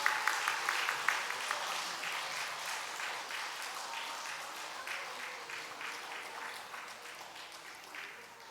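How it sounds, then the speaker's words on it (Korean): A church congregation in Seoul applauding during a Sunday service, steady clapping from many hands that starts with a few sharp claps near the front and gradually tapers off. "준비 안 하신 분들은 박수로라도 축하하셔야죠"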